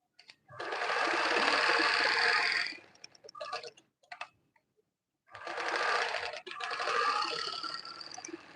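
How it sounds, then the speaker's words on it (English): Sewing machine stitching scuba fabric onto a satin bag lining, two close, loud bursts of rapid whirring stitches separated by short pauses with a few clicks of the machine in between. "I'm placing this scuba fabric on the back side of my lining, and I'm going to stitch it all around."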